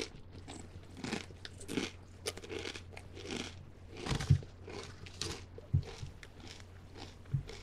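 Close, crisp crunching of Kettle Brand salt and apple cider vinegar potato chips being bitten and chewed, with repeated sharp bites and steady mastication that recur every second or so, with no speech.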